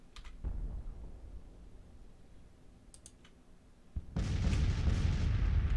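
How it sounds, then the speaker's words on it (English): Artillery fire on a Civil War battlefield in the Grand Tactician strategy game: a low rumble of cannon fire with scattered sharp reports, rising to a loud, dense, sustained barrage in the last couple of seconds. "Right now, it's just the artillery doing their thing."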